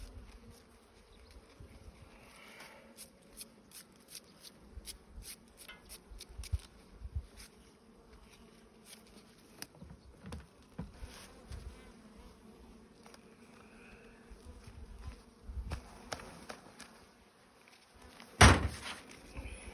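Bees buzz around a black hive, a steady insect drone that holds for the whole stretch with scattered close flybys. A single sharp knock or bump stands out near the end.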